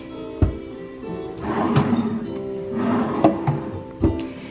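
Drawers of a bedroom dresser in a deluxe studio villa at a resort slide open and shut, with a few distinct wooden thunks and scraping glides over a steady room hum.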